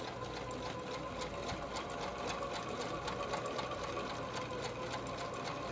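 A Necchi sewing machine stitches fabric for a pillow made from a 1983 Cabbage Patch panel, a close, steady, rapid mechanical whirring with regular needle ticks and no pause.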